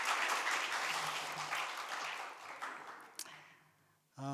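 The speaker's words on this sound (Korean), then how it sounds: "우리 친구들을 위해서 다시 한번 격려를, 박수를." Audience applause at a church mission gathering, a dense wash of clapping that slowly fades out, followed by a brief voice at the end.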